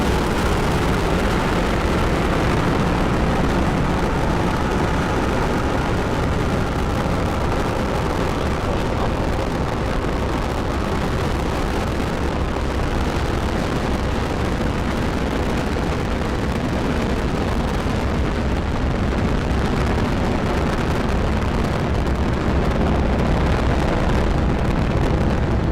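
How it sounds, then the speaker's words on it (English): A SpaceX Falcon 9 rocket roars after liftoff, a loud continuous broadband crackling thunder that holds steady and powerful for the whole stretch, with no one talking. "Ignition, liftoff."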